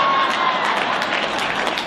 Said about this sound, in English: You can clap for that too, other non-nurses.